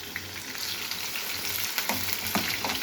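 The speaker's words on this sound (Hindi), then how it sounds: "एक मिनट तक इन्हें फ्राई करने के बाद अब हम इसमें प्याज डाल देंगे।" Onions hit frying keema in a pan, setting off a dense, loud, continuous sizzle with scattered crackles and stirring scrapes, close up and without voices.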